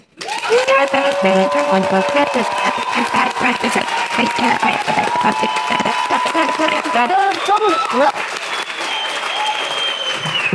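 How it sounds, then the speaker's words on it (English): Audience at a motivational talk rises and claps on a count, steady loud applause filling the space with cheers and whoops, while music plays underneath and voices call out over it. "In a count of 3, we're going to stand up, clap our hands."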